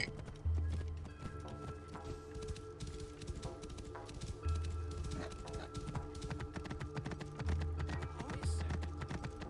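Horse hooves clip-clop in a steady trotting rhythm in Assassin's Creed Origins, loud and close, with periodic low thumps and game ambience layered underneath.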